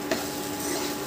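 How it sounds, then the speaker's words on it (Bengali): Spice paste loosened with a little tomato water fries and is stirred in a pan for a rohu-style bata fish curry, giving a steady close sizzle with a brief scrape near the start. "এবার মশলাটাকে কিছুক্ষণ আমি কষে নেব।"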